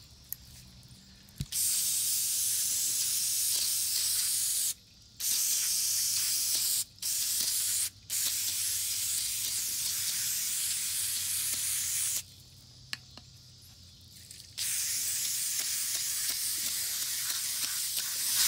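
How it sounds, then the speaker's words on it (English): Brake cleaner is sprayed onto a fine mesh screen during a 50-hour service, in long, steady aerosol hissing bursts broken by a few short pauses, close and continuous. "It is a fine mesh screen that we have here. And I'm just using brake cleaner on it."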